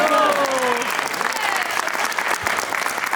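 An audience at a magic show applauds with dense, steady clapping that briefly overlaps a French-speaking voice at the start and then continues on its own.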